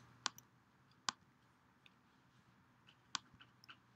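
Three sharp, isolated clicks from a computer mouse in a quiet room, spaced unevenly across a few seconds with faint ticks between, close and crisp with no talking.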